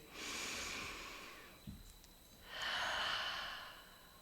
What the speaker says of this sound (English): Let's do that again. Let's just breathe.